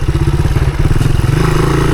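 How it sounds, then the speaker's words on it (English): A 1983 Honda XR200R dirt bike engine held at full throttle in second gear on an enduro trail, roaring loud and close with a fast, pulsing exhaust note that rises slightly in pitch. "Can't say I ever held a XR200 wide open like that in second gear."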